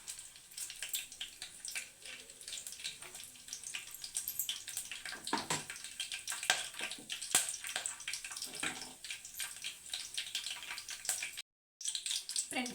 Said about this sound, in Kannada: ನಾನು ಜೀರಿಗೆ ಸಾಸಿವೆ ಹಾಕ್ತಾಯಿದ್ದೀನಿ